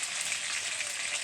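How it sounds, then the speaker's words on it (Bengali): Rice fries in a pan with a steady, close sizzling hiss that stays even throughout the short moment, with no voices. "ভাতটা ভাজা হচ্ছে।"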